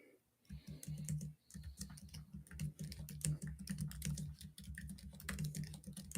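Someone types quickly on a computer keyboard, a close, continuous patter of key clicks with brief pauses.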